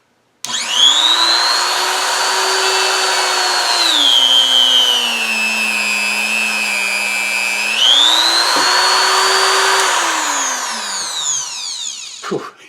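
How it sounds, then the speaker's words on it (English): A Hilda 220V 400W rotary grinder with a grinding wheel whines loudly against a piece of leather, its pitch dropping under pressure for several seconds, then rising again before spinning down. "now I put a grinding wheel in which runs a bit truer than the other one"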